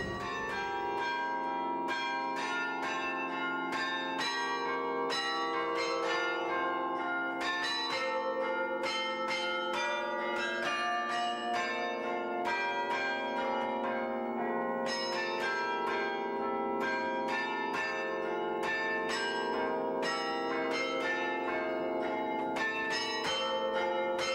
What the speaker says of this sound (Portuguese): é Sara Rosa Elias, entusiasmou-se pelos carrilhões e, como vê, já vai tocando, já vai tocando